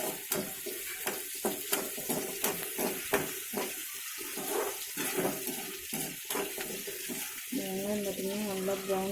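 Ingredients are sautéed and stirred in a hot pan, with a continuous sizzle broken by repeated scraping strokes of a spoon, close and moderately loud, and a voice talking faintly toward the end.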